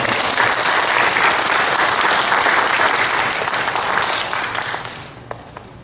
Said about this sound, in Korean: 우리 중고등부와 성가대에게도 우리 축복의 박수 한번 보내드리겠습니다.